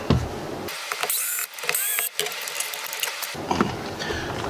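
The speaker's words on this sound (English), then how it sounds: "next I need to remove these 2 long screws here" Two long screws are backed out of a Roland Micro Cube guitar amp, giving a run of small scraping, squeaking mechanical turns and clicks close up, with brief gaps between them.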